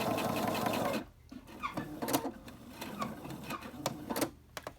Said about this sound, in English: We're going to stitch along.